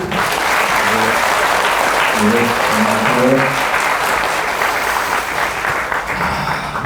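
A big round of audience applause for the head monk at a meditation academy lecture, steady crowd clapping throughout, with faint tonal background sounds beneath.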